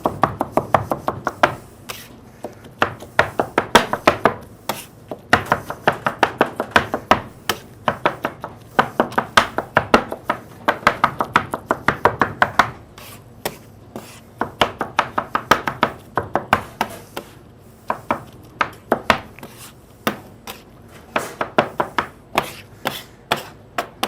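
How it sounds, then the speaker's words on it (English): A bench scraper repeatedly strikes and scrapes a ball of mozzarella-filled dough on a work surface, producing steady rapid knocking chops in quick bursts with brief pauses, close and fairly loud, with no talking. "using a bench scraper, we're just going to work it front to back,"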